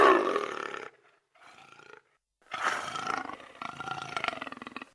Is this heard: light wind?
no